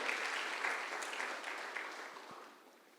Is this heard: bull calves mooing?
no